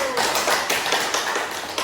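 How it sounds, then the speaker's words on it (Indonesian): A class of schoolchildren applauds a student group after their poster presentation, with dense, steady hand claps and some voices mixed in. "beri tepuk tangan untuk kelompok 1"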